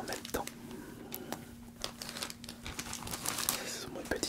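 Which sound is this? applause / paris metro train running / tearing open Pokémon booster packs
tearing open Pokémon booster packs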